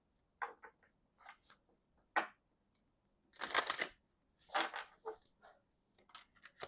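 Medicine cards being shuffled for a reading, a series of close, quiet riffling and sliding bursts with short gaps, one longer riffle in the middle.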